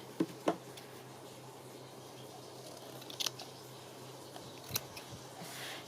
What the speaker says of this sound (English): I'll cut the fabric just a little bit bigger